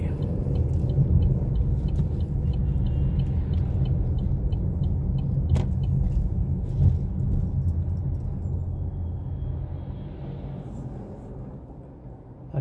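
Road traffic rumbles continuously on a São Paulo street above a train line, a dense low roar with passing vehicles and occasional sharp clanks and ticks.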